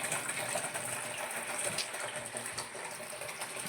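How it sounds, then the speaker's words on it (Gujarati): Water gushes steadily into an underground water tank, a continuous, fairly quiet rushing and splashing with a faint engine-like hum beneath and no speech. "આવે છે આ પાણી"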